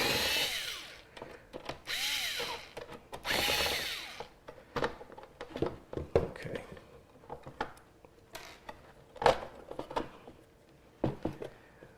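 A power driver turned up to full voltage whirs through several bursts while backing tight screws out of a Dell XPS computer, followed by scattered clicks, rattles and handling noises of parts being worked loose, fairly close.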